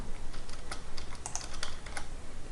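Rapid typing on a computer keyboard while drafting a title block in Revit software, with a steady run of close, light clicking keystrokes and no talking.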